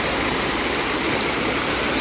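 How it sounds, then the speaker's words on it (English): A waterfall near a beach shore roars as a loud, constant rush of water that fills the whole clip without pause or voices. "I'm enjoying this waterfall here."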